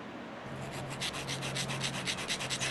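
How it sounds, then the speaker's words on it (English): A nail file rasps back and forth over shell nails, a soft steady rhythmic rubbing at close range, fairly quiet with no talking. "this one's gonna need a lot of filing. Make a lot of dust."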